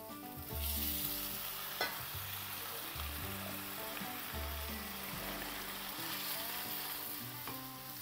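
Soaked toor dal frying in a pan with ginger-garlic masala, a steady sizzle with a few stirring clinks and scrapes, close and continuous with no talking.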